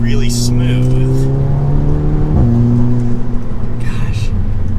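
An Audi S3 four-cylinder turbo engine pulls hard under acceleration, its exhaust and intake note steady and loud from inside the car, with rising harmonic tones shifting once mid-run; a voice is also heard.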